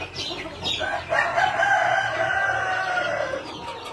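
Sentul native village chickens, about forty birds in a 2.5 by 2.5 meter coop, cluck in a busy chorus while one rooster lets out a long drawn crow nearby.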